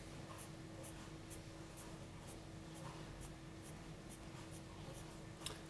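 A pen or pencil draws small repeated marks on paper for a plane mirror ray diagram, a soft steady scratching with faint ticks against a constant background hum.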